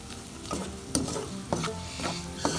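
Toasted spices being stirred through oil in a pan over very low heat for a vegetarian lentil dahl: a soft steady sizzle with several distinct scraping stir strokes spaced roughly half a second apart, close and fairly quiet.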